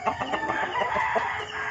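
Chickens cluck and a rooster crows nearby from its coop in a brief, busy burst of farmyard fowl sounds.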